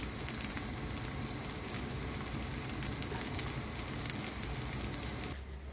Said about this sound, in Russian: Обжариваем на сковороде с двух сторон.